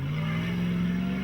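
A 4x4 trials vehicle's engine grunts and labours steadily on a muddy hill climb at a Whanganui trials round, a loud, continuous low drone close by with no talk over it.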